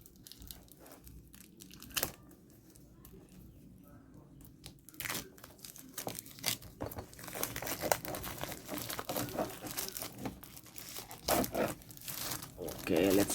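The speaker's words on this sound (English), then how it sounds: "let's remove the plastic first." Crinkling and tearing of plastic wrap being peeled off a black 49mm DT8 Ultra Plus smartwatch, close-up with irregular rustles and sharp crackles, a few louder bursts near the end.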